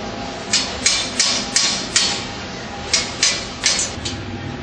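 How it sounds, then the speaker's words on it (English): Hammer blows on metal strips being driven into position during installation of an assembled structure, about nine sharp, evenly spaced strikes in a steady rhythm, fairly loud and close with no talking. "we have to hammer it and bring it into the position so that hole matches properly"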